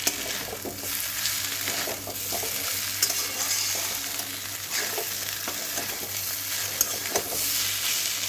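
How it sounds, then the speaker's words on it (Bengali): Steady frying sizzle with occasional stirring scrapes as small kachki fish and onions fry in a pan, continuous and fairly close, with no talking. "এটা আরেকটু ভাজা হোক, হালকা, বেশি ভাজতে হবে না"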